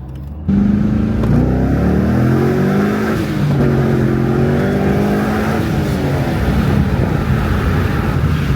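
A supercharged Corvette C5 Z06 pulls hard through first and second gear, its engine note climbing loud and close with a shift break partway, wind rushing over the microphone throughout.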